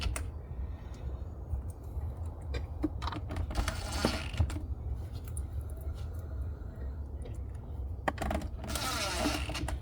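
Bolts being fitted and fastened on a 2003 Cadillac Escalade EXT center console during a leather seat install, heard as scattered metallic clicks and ratcheting rattles over a low steady hum, close and fairly quiet.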